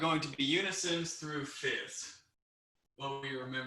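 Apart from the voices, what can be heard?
None of the usual background noises is heard.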